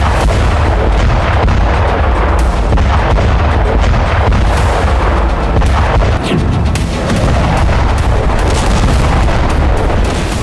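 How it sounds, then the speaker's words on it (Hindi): Continuous, loud rumbling and booming from heavy bombardment during a Russian attack on Ukraine, a dense roar with repeated bursts and no clear gaps. "चौबीस घंटे के अंदर रूस ने यूक्रेन में कई मोर्चों पर भीषण बमबारी की।"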